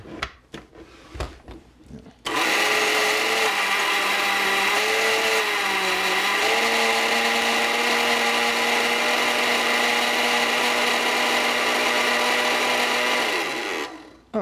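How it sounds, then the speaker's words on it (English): A kitchen blender runs to purée honeydew avocado soup. A few clatters come first, then a loud, steady whirring drone holds for about twelve seconds, its pitch shifting slightly, before it stops abruptly. "I'm going to go over to the noisemaker, the blender"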